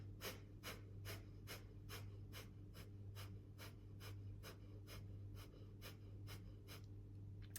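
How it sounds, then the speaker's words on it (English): Breath of fire, a rapid rhythmic yogic breathing, as sharp forceful exhales pulse evenly about twice a second over a steady low hum, close and continuous with no speech. "we're doing another breath of fire here"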